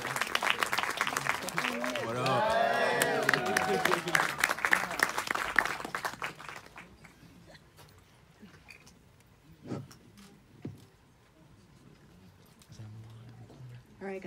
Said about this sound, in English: So clap it up for them.